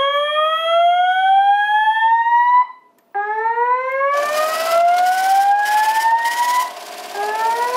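Linked NFS2-3030 and 4100U fire alarm panels activate with loud rising sweep tones, the alarm pausing briefly and then resuming while a harsh pulsing horn cuts in over the sweeps.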